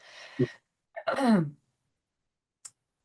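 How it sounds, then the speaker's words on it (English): A short cough followed by a drawn-out, rough throat clearing, then a faint brief click; quiet pauses between, no talking. "once you start coughing and you can't stop"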